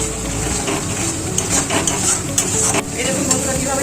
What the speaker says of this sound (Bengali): এবার এটা নাড়বো, যতক্ষণ না তেল ছেড়ে আসে ততক্ষণ পর্যন্ত এটাকে নাড়তে হবে।